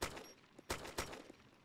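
Gunshots in the video game DayZ, the Arma 2 mod, come as two or three sharp cracks over a faint background, quiet and a short way off, with no talking.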